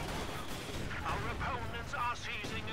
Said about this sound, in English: the incendiary artillery on the MG. That's going to force retreat